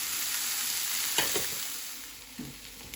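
Red, yellow and green capsicum peppers fry in a pan for a Goan chorizo curry, a steady close sizzle broken by a few stirring scrapes and knocks.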